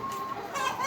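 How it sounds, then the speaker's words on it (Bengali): Layer hens in a large poultry shed holding about 5,500 birds, clucking continuously at close range with a steady, dense chatter of many birds throughout. "এগুলো হচ্ছে আমাদের লেয়ারের মুরগি।"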